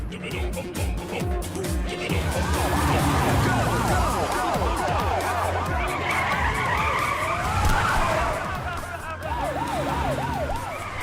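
A car skids to a stop with screeching tires amid a chase with a police siren wailing, loud and close, layered with other vehicle noise over about eleven seconds.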